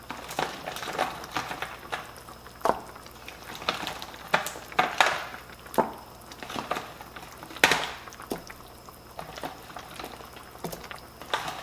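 Frozen meatballs drop into a sauce at a low boil, giving repeated soft plops and bubbling with light clinks of a pot and utensil, steady and close with no talking.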